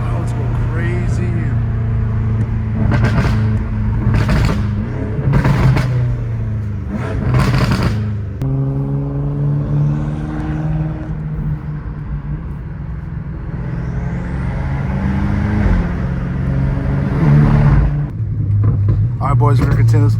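A straight-piped BMW M5 Competition revs hard in California, its loud, raspy exhaust rising in several sharp bursts over a steady, deep engine drone that never lets up.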